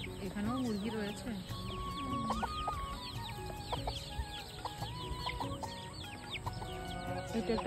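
Chickens cluck and chatter around a village home in the hills of Kalimpong, several birds calling in short irregular bursts over a busy outdoor background with other voices.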